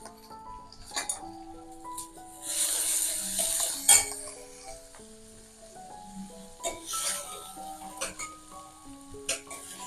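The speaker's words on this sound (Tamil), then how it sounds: "தக்காளி கொஞ்சம் நல்லா வதங்கணும்." Tomatoes sautéing with turmeric and salt in a pan after onions, stirred with a metal spoon that clinks and scrapes against the pan over a soft sizzle, close up with no talking.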